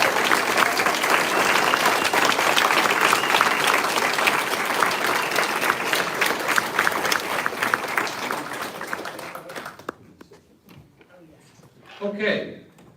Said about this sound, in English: I'd ask you to all give a big round of applause for all the candidates up here